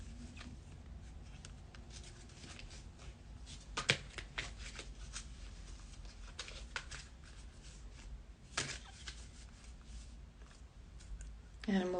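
Playing cards being shuffled up close, soft riffling and shuffling with a few sharper snaps and riffles breaking through a quiet background.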